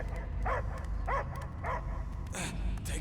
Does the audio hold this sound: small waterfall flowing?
no